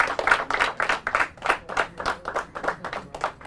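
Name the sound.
audience clapping for a quiz team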